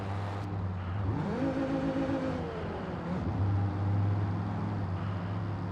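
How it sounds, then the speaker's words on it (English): A Volvo's five-cylinder engine in a driving game, sounding like an Audi: a steady idle hum rises in a single quick rev, holds briefly and falls back, then hums on, moderately loud and close. "yeah, but the engine sound is like an Audi"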